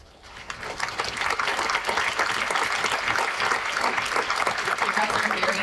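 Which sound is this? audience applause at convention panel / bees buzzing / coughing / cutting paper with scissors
audience applause at convention panel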